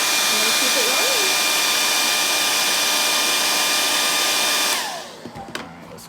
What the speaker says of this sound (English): When I turn the blow dryer off, we're gonna go out.